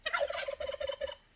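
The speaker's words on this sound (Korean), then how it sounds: "칠면조는 이런 소리." A turkey gives a single loud, rapid warbling gobble, a quick rattling burst of pulses that fades out after about a second.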